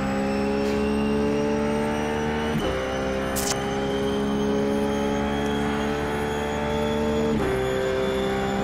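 Ruf GT3 race car engine in iRacing at Road America, a loud sustained high-revving drone with steady harmonics and brief gear-shift dips, heard alone and up close.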